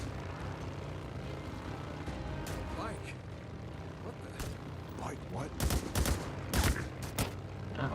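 Gunfire aimed at the player in the Days Gone video game crackles in a short burst of sharp shots near the end, over a steady engine-like drone, with voices talking throughout.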